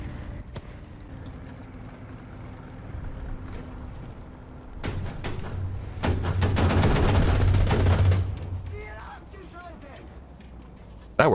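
Rapid gunfire bursts in War Thunder strike a player's vehicle, a dense crackling volley building loud and close over an engine rumble, then fading back to the idling hum.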